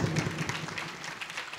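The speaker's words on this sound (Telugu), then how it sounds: "గట్టి చప్పట్లు కొట్టి దేవుని స్తుతిద్దాం" A church congregation at a Telugu Catholic service claps hands loudly together, a dense, steady wash of applause that fills the whole moment without any break.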